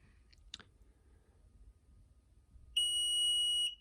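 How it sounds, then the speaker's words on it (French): A single sustained electronic beep from a Tesla Model 3 power trunk module, steady and piercing, starting abruptly near the end and holding for about a second, after a faint click earlier. "J'ai un long bip, je continue d'appuyer."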